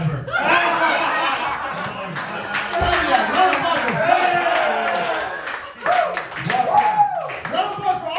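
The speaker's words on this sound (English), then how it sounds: "Round of applause for all the comedians you guys saw." A comedy roast audience at Roastlemania claps in a steady burst of applause, mixed with chuckles, laughter and crowd chatter, while voices talk over it.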